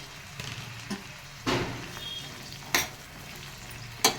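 Broad beans fry in hot tempering oil for a tomato curry, giving a constant close sizzle broken by several sharp bursts as the pan is stirred.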